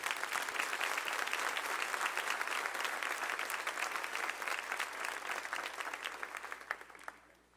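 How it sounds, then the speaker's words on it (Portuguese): A church youth congregation claps together in a full, sustained burst of applause, crisp individual claps audible within the crowd, fading out over the last second. "Você pode aplaudir a Jesus?"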